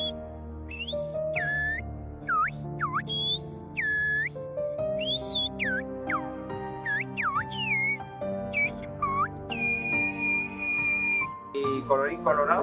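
Silbo Gomero, the whistled language of La Gomera, rendered as a run of loud, sliding whistles that rise and dip in pitch, with some sustained held tones, close by over a background of low murmuring voices.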